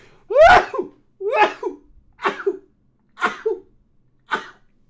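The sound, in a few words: sneeze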